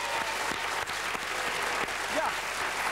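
Studio audience of a Flemish TV game show giving a big ovation to a contestant, continuous dense clapping at a moderate distance with a few sharper claps standing out and a faint voice or cheer in the background.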